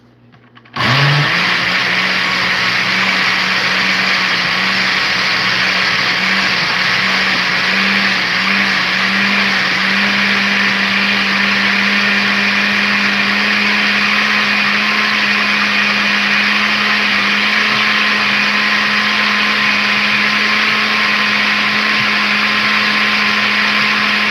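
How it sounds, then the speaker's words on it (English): A blender runs loud and steady on green plantains and bananas, starting with a sharp motor whine after a brief pause and then holding a constant high-pitched grinding roar with no talk. "I'm gonna blend them, then I'm gonna boil them into a porridge"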